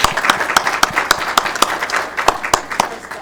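Applause from attendees at a Federal Way city council regular meeting, a burst of sharp, distinct claps from a modest crowd, fairly close and loud, lasting a few seconds on its own.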